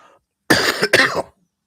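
Two harsh coughs in quick succession come from a man with a strained voice, close and loud against silence.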